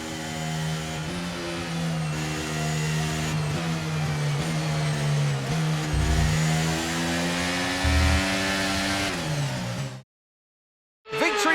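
Formula 1 car engine in F1 23 at the Spanish Grand Prix, a steady high-pitched whine from a close onboard view, gears shifting up and down, then a sudden cut to silence before the engine returns.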